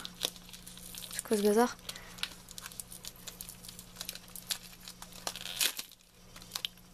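Close crinkling and tearing of a paper packet, with scattered rustles throughout and a brief spoken remark early on.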